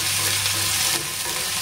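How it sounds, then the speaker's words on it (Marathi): Finely chopped spring onion sizzles in hot oil over medium heat in a pan for a chicken gravy, giving a steady close crackle with faint stirring and no talk. "छान कांदा परतून देऊया याच्यामध्ये"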